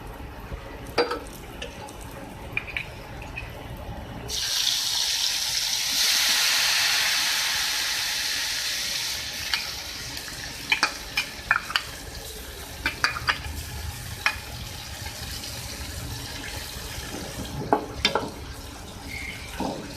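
Chopped tomatoes hit hot oil in a pan of dal masala and set off a loud, steady sizzle that slowly fades, followed by scattered close clicks and scrapes of stirring.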